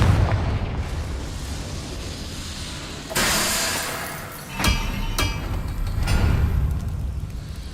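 A Confringo blasting spell bursts in Hogwarts Legacy, a sharp broadband blast followed by a second boom and a few crackling pops over a low rumbling game backdrop.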